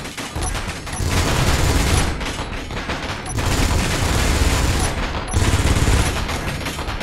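Turret gunfire in the video game Space Engineers, loud and sustained bursts of rapid shots roaring in two or three long stretches with brief lulls between them.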